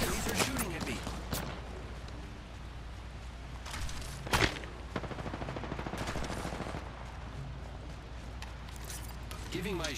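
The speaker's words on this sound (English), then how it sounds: "The enemies are shooting at me." Apex Legends gunfire, rapid bursts of shots at a distance with a louder crack near the middle, under a low steady game ambience.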